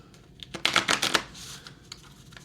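A deck of cards for the Fury Hardball baseball tabletop game gets shuffled once, a quick dense riffle of flapping clicks close up, followed by a few light taps.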